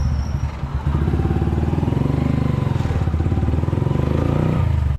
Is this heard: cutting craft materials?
no